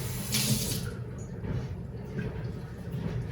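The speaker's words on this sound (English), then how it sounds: "and then I fill it with lukewarm water" Lukewarm water runs from a tap into a bin for transplanting lupines, a steady close splashing stream with a brief brighter gush near the start, no speech.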